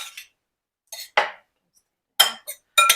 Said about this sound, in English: Let's give that a stir and see how that looks.